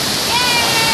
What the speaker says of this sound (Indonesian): Ini adalah air terjun Waikalam yang ada di daerah Lampung Selatan.